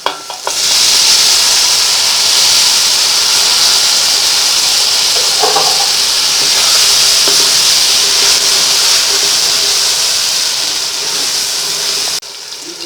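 A loud, steady hiss of tomatoes sizzling in a hot pan runs throughout, with a brief stirring clatter partway through and no voices.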